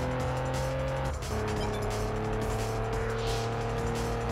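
A car weaving through traffic in the PS2 racing game Test Drive Unlimited, with a steady, loud engine hum and tonal whine throughout and a brief dip partway through.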